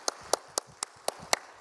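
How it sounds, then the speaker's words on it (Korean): Six sharp, evenly spaced claps ring out from a church congregation, each a distinct loud strike about a quarter second apart, with no voices over them. "뜨거운 박수로 격려하고 감사하십시다"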